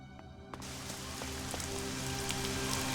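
Rain weather effect in the ELEX video game: a steady, close hiss of rainfall with scattered droplet ticks over a low, constant ambient hum, filling the whole stretch without pause.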